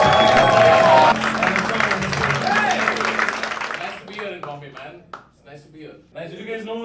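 Studio audience applauding and cheering to welcome a comedy show host, a dense burst of clapping that fades after a few seconds as people begin talking.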